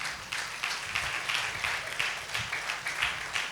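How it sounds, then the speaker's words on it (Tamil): Congregation at a Tamil Christian sermon claps together, a steady, rhythmic round of applause from many hands, fairly near and continuous throughout, with no voices over it. "அதுக்காவது கொஞ்சம் கைத்தட்டி உற்சாகப்படுத்துங்க"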